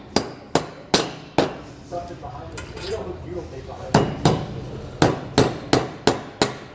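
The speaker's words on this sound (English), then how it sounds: "Now I'm going to hammer down my bolts." Repeated sharp hammer strikes on metal ring out as bolts are hammered down while installing horizontal E-Track, in clusters with short pauses between, close and loud with a slight clanging ring.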